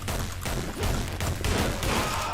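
Video game gunfire bursts out in a rapid dense volley, loud close shots repeating several times per second across the whole moment.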